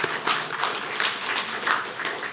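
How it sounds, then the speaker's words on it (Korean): A congregation at a Sunday service at Cheonan Dream Church in Korea applauds with steady, moderately loud clapping that fills the room, with no voices. "다시 한번 크게 박수 한번 주시기 바랍니다"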